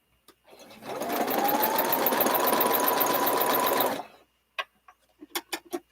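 A sewing machine stitches tulip fabric pieces in one steady, loud, rapid run of about three seconds, its motor pitch rising slightly as it speeds up, then stops; a few soft clicks and handling sounds follow.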